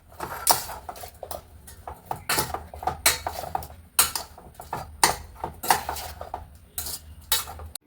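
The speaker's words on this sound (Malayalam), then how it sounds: "ഇത് നന്നായിട്ട് സ്പൂൺ കൊണ്ട് ഇളക്കി ആ ഉപ്പും വിനാഗിരിയും മഞ്ഞൾപ്പൊടിയൊക്കെ ഒന്ന് പിടിക്കട്ടെ" A spoon stirs lemon pickle with salt, vinegar and turmeric in a jar, giving a run of sharp, irregular metal clinks and scrapes close by, with no talking.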